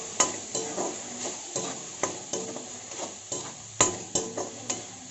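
Spoon scraping and stirring chili powder and salt in a frying pan for kidney bean masala curry, a faint sizzle under regular strokes roughly twice a second, close and fairly quiet, with no talking.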